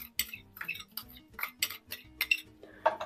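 A spoon scrapes and clinks rhythmically against a bowl while stirring instant yeast into warm water and sugar, close and crisp with repeated taps.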